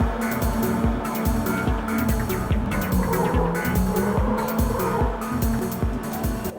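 Racing car engines roar steadily with repeated tire squeals in the PlayStation 1 game Gran Turismo 2, a loud continuous drone with rhythmic pulsing and skids throughout, no voices.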